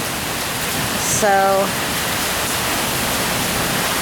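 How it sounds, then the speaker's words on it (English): Heavy rain pours steadily as a constant hiss heard from a porch, with someone briefly speaking over it. "It rains like this here all the time."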